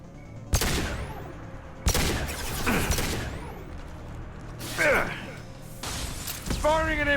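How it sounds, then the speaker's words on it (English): Heavy impact-shot gunfire from the video game Mass Effect, several loud sharp blasts spaced a second or so apart, mixed with game effects and a voice talking in between. "Firing an impact shot."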